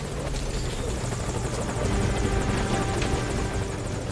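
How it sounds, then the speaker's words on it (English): A helicopter in Metal Gear Solid V hovers close by, its rotor chop loud and rhythmic with a droning engine under it for the whole stretch, with no voices. "Where's my chopper?"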